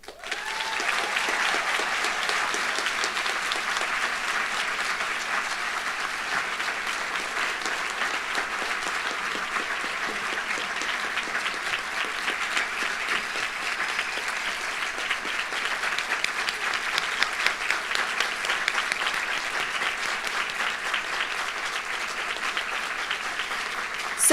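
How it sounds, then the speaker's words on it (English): A graduation audience applauds nursing graduates at a winter ceremony, a steady, sustained wash of many hands clapping at moderate distance for a long stretch without letup. "Please join me in giving one final round of applause to our graduates"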